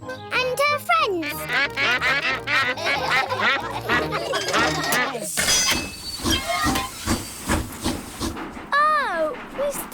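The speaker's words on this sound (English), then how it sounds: "It's Mrs. Duck and her friends" Cartoon ducks quack during an animated children's train ride, their calls mixed with a hissing steam train and children's voices talking, busy and fairly loud throughout.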